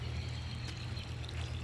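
A small fountain in a garden pond splashes and trickles steadily, a continuous close water sound with no voices.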